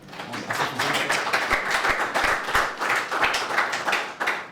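Audience members at a youth entrepreneurship conference clap, a moderate, fairly close patter of individual hand claps forming uneven, pulsing applause.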